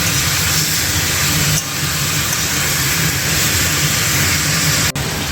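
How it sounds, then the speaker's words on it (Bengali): Steady loud sizzling hiss of chicken frying in hot oil, continuous throughout with a brief dip midway. "চিকেনটা আমি ভাজছি, এখন ভাজা ভাজা হয়ে গেছে"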